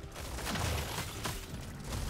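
Explosions rumbling in Deep Rock Galactic Survivor, a dense, continuous low boom with crackling bursts over about two seconds, loud and steady with no voices.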